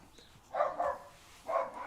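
Dogs bark in a few short, muffled bursts, two close together and then one more after a pause, moderately loud from a short distance with no one speaking.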